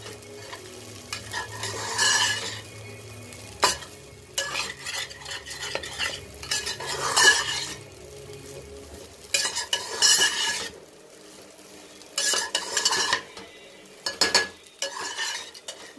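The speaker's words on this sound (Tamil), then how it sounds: "இப்போ நான் நல்லா கிண்டி" Egg pasta stirred in a pan with a utensil, steady scraping strokes over a low sizzle with occasional clinks against the metal, close by and alone with no voices.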